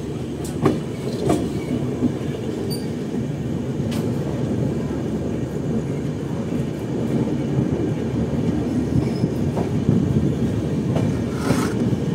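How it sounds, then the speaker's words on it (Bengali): A Gaya–Kolkata weekly express train departs from platform 4 at Malda Town and rolls steadily along the track, its continuous low rumble punctuated by occasional clicks and clanks of the wheels, fairly close and without talk. "ট্রেন আমাদের একদম অন টাইম 11:25 মালদা টাউনের 4 নম্বর প্ল্যাটফর্ম থেকে ছেড়ে দিল।"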